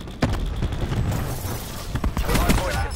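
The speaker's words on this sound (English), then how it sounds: "Got a grenade in here." Grenade blasts and gunfire during a Hardpoint match in Black Ops 4, with sharp booms and scattered shots popping through a busy game soundscape, mid-distance and fairly loud.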